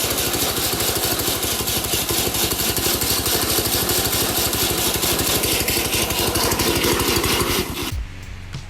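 A workshop engine runs with a loud, fast, even chugging pulse that keeps going for several seconds, then cuts off abruptly near the end.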